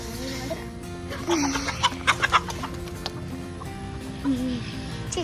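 Roosters and hens scuffle and cluck on a farm, with a burst of squawks and flapping sounds in the middle of the clip over steady background clucking; a person briefly speaks near the end.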